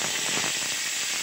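Garlic frying in hot oil with black cumin seeds for a fenugreek-leaf (methi) dish, a steady close sizzling hiss with fine crackling throughout.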